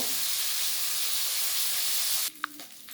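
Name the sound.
fish heads frying in oil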